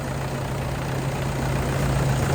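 A 2007 Toyota Vigo 2.5 E diesel pickup engine idles steadily, a constant low rumble with an even hum and no revving.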